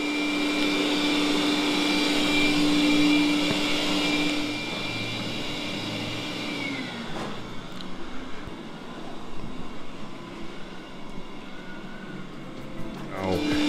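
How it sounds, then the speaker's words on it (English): A NEABOT Q11 self-emptying robotic vacuum (4000Pa) runs at maximum suction, giving a loud, steady whirring drone with a high tonal whine that eases slightly partway through but continues throughout. "let's put it all the way to the max. This is the max suction power."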